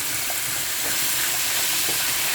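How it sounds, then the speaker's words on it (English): Beef seasoned with Italian seasoning and dried basil sizzles loudly in a pan, a steady close frying hiss with faint scraping from stirring, no voices. "Give a good stir until our meat is cooked properly"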